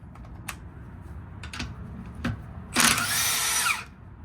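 A Milwaukee 2967-22 1/2-inch high-torque cordless impact wrench, in mode 3, gives a few short bursts, then a loud, rattling hammering run of about a second, close up.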